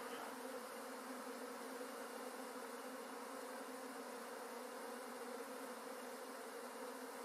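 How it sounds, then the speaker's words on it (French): A honey bee swarm pouring out of its hive, a dense continuous buzzing drone of many bees, steady and even throughout, heard from fairly close with no voices. "on voit toutes les petites abeilles qui sortent de la ruche"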